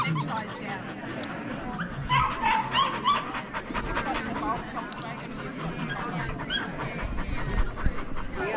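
Several dogs bark, yip and whimper on an outing, sharp barks scattered through steady chatter of people talking nearby.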